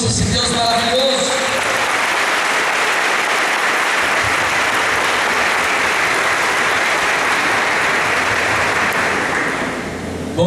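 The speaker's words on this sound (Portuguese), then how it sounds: "vamos aplaudir a Jesus" A church congregation at a Catholic formation gathering breaks into loud, sustained applause that fills the hall for about ten seconds, with a few voices mixed in near the start, then the clapping tapers off at the end.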